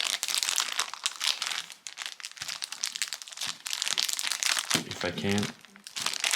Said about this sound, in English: I'm going to take it out of the plastic